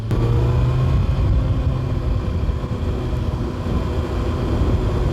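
A 2024 Kawasaki Ninja ZX-6R sport motorcycle pulling hard on a road, its engine a loud, steady, close roar held through the whole stretch with no voices over it.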